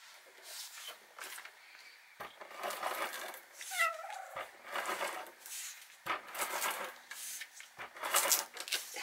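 A cat moves around near paper crafting materials, giving intermittent rustles, rubs and soft scraping bursts, with a brief meow-like chirp in the middle, all at close range in a quiet room.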